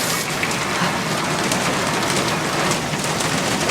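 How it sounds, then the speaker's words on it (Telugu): Steady rain pours down in a film scene, a dense, even hiss of drops on surfaces that holds at a constant level throughout with no voices. "వర్షం వస్తుంది, తడిచిపోతున్నావు."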